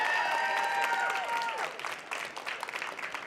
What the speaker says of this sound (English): Let's have another round of applause for Sol,